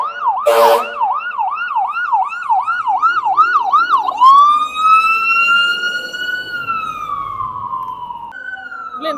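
Emergency vehicles pass on a street in Canada: a loud, close siren wails in a fast repeating cycle, then switches to a long rising and falling tone, with another siren joining near the end.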